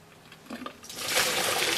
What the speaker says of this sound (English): My noodles are done, so I'm draining off the water.